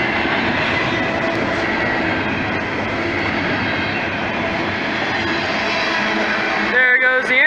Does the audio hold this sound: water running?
no